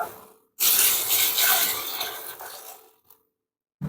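A short, close splash of hot water poured in one steady stream for about two seconds, then it stops.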